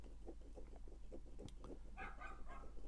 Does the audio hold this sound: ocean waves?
no